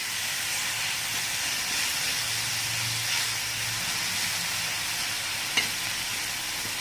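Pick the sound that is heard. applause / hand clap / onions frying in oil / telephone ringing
onions frying in oil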